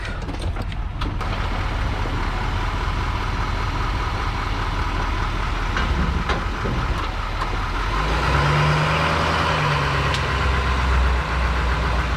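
A Duramax diesel pickup engine idles with a steady, rough low rumble, close and continuous, the tone shifting slightly partway through.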